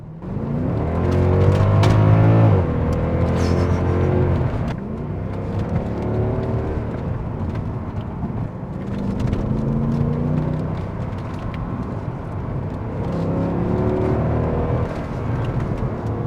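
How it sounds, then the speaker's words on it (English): A Mercedes-Benz W219 CLS63 AMG under hard acceleration on back roads, loud engine revving climbing through gears with pulling surges and shifts, heard close from inside with no voices. "let's do a couple of hard acceleration"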